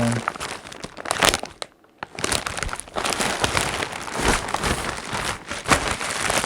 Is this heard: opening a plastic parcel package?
yes